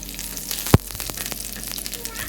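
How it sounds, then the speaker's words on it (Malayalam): Mustard seeds, shallots, dried and green chilies and curry leaves fry in hot oil, a soft crackling sizzle broken by one sharp pop near the start, heard close and alone. "അതിലേക്ക് കടുക് ഇട്ട് പൊട്ടിയതിന് ശേഷം ചെറിയ ഉള്ളി, വറ്റൽമുളക്, പച്ചമുളക്, കറിവേപ്പില എല്ലാം കൂടെ ഒന്ന് വറുത്ത് കോരുകയാണ്"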